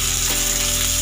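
Boiled cauliflower pieces frying in hot mustard oil in a wok give a loud, steady, continuous sizzle with no break and no talking.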